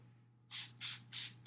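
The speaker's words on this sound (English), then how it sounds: "completely saturate the paper with a spray bottle" A hand spray bottle mists water onto thick Reeves BFK printmaking paper to soak it, giving four quick, evenly spaced hissing bursts close to the microphone over a faint low hum.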